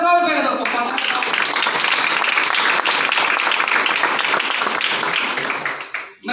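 A crowd at a business-plan seminar in Varanasi applauds, the dense clapping filling the room loudly and evenly for about five seconds before quickly dying away.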